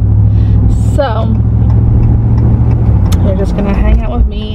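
A truck drives along a road, its steady low engine rumble and road noise running throughout, close and loud, while people talk over it.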